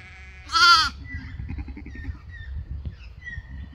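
A ewe in a pen during lambing lets out one loud, wavering bleat up close, followed by quieter rustling, shuffling and faint animal sounds.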